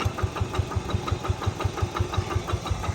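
A small diesel tiller engine runs steadily at a fast, even chugging pulse, close and loud, with no talking.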